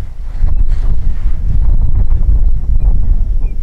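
Strong wind buffets the camera microphone outdoors, a loud low rumbling roar with gusty fluctuations throughout, no voices heard.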